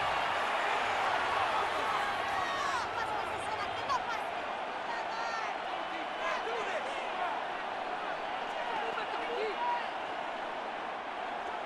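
Steady stadium crowd roar from a Madden football video game, a simulated Las Vegas Raiders vs. New England Patriots matchup, fills the background continuously, building ahead of a third down, with a commentator's voice talking over it.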